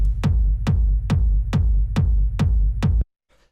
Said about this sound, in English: the first sound I have here is the kick